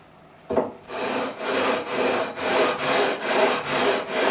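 Frets on a Fender Standard Stratocaster are sanded with 240 grit sandpaper, a close, rhythmic rasping of about eight regular back-and-forth strokes after a single knock.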